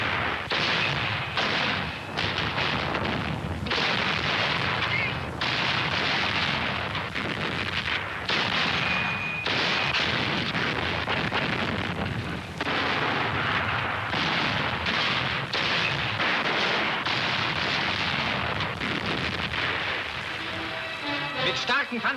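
Artillery and tank guns firing on enemy tank assembly positions in wartime newsreel footage: repeated heavy booms and blasts in quick succession over a sustained roar, with someone narrating over the gunfire.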